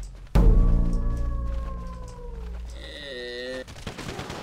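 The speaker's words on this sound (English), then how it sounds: "Oh, you got a minigun, maybe?" A minigun in a wave-survival shooter fires in one sudden, loud, sustained burst that rings out and trails into lingering tonal whines, with bursts of other game noise after it and no talking over it.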